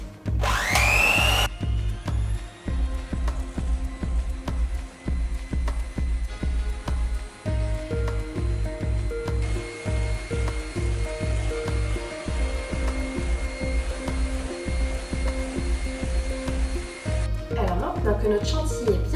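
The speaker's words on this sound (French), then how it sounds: "je vais le faire avec un petit batteur manuel" Small electric hand mixer whipping chilled cream into Chantilly, a steady loud motor whine with rhythmic beater pulses that runs almost the whole time, briefly stopping and restarting.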